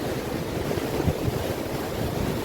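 Sea waves wash steadily onto a beach, a dense, continuous roar with no talk over it.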